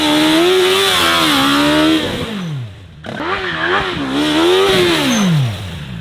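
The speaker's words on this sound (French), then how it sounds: "un petit trick que j'adore faire sur ma moto et qu'on va tenter là sur la S1000RR" A BMW S1000RR sport motorcycle engine revs loudly up close, rising and falling through two sweeping throttle blips with a sharp drop and a brief dip in between, no speech.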